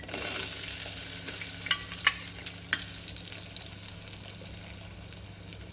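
Peanuts and chana dal frying in a pan with asafoetida, a steady close sizzle with a few sharp pops and stirring scrapes throughout.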